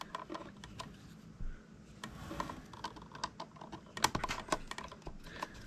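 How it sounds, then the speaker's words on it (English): A Phillips screwdriver loosens the screws on a plug-in outlet, giving quiet irregular clicks and ticks of metal on metal, close and faint with no talking. "And you just loosen your screws here."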